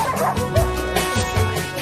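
Several dogs at a doggy day care yip, whimper and bark excitedly together, close and continuous, crowding around a newly arrived French Bulldog, with a little human voice mixed in.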